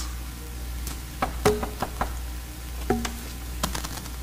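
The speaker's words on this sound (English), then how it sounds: "And the lion knocked." Knocking on a big green door studded with diamonds and jewels in an audio play, a few sharp separate raps spread irregularly over a few seconds against a low steady hum.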